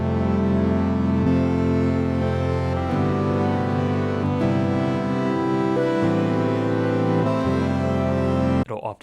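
At a very slow tempo, a Sonicware Texture Lab granular pattern drifts through sustained, grainy chord tones that change every second or so, loud and continuous, then cuts off with a short noisy burst.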